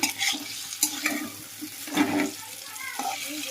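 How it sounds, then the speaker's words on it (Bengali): Potatoes being stirred and sautéed in a pan for a potato and egg curry give soft scraping and sizzling bursts, with a spoon moving through them at an uneven rhythm. "আলুটা কষিয়ে নিয়ে"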